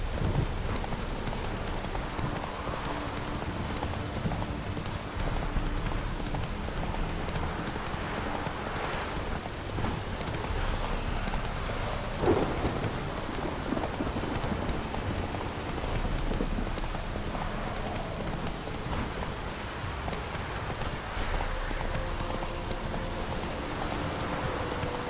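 In The Witcher 3, the horse Roach gallops through rain, with steady clip-clop hoofbeats under a constant wash of rainfall, continuous and fairly loud.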